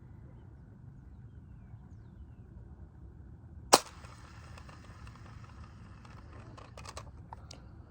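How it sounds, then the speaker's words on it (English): An antique Daisy toy cap gun, its noise mechanism badly worn, is cocked and fired: near silence, then one sharp, isolated snap followed by faint small clicks. "all you got to do for this is, of course, simply just cock the gun and then fire"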